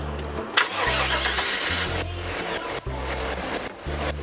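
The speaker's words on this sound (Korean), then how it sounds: "다시 걸어야지." A 1995 Chevrolet van engine cranks in repeated starter bursts, then catches and runs, loud and close with no talk over it.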